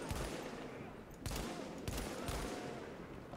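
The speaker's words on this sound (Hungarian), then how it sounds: "Használjunk egy kis mesterlövészt, azért is szoktam használni, hogy ne egyfajta lőszert lövöldözzek el mindig." Sniper rifle fire in a video game: a few sharp, heavy shots ring out at irregular intervals over a dense, constant roar of battle noise.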